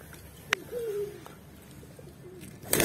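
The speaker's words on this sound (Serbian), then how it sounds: "Pođoše ptičice." Pigeons being fed bread give a soft, low coo or two, fairly faint and brief, with a sharp tap just before and a noisy burst at the end.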